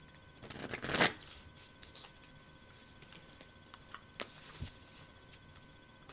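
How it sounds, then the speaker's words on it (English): Tarot cards are shuffled and dropped, with a loud riffling burst near the start followed by softer scattered slaps and flicks of the cards, close and with no voices. "Dropping cards."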